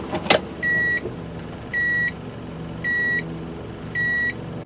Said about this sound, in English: It also sounds a chime when you shift into reverse.